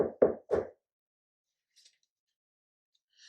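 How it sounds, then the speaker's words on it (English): Three quick, firm knocks on the door of a big house, close and distinct, followed by near silence with only a faint rustle. "He knocked on the door."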